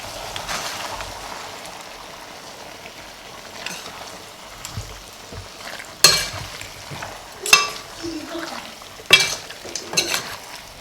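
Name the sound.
stirring curry chicken with coconut milk in a pot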